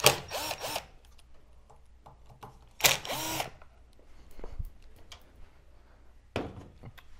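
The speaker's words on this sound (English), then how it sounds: "We're going to take the two screws on the top and two screws on the bottom off to get the ESC off of the bracket itself" A power drill backs screws out of an ESC bracket on a DJI Agras T40 drone, with three short close whirring bursts separated by quiet pauses and faint handling clicks.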